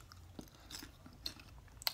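Close, quiet crunching as someone chews cheddar cheese and caramel popcorn, a few sharp crisp bites scattered over two seconds with soft mouth sounds between.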